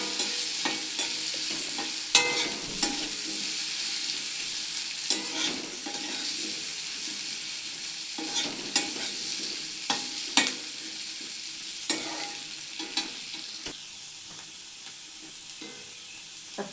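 Pointed gourd frying with turmeric in a pan is stirred repeatedly, with spatula scrapes and clacks recurring every second or two over a continuous low sizzle, close up and without speech.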